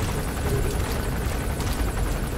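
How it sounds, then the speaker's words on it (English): Helicopter in the video game Metal Gear Solid 5: The Phantom Pain, a steady, loud rotor roar that fills the moment without pause, close by and with no speech over it. "Is that helicopter following me?"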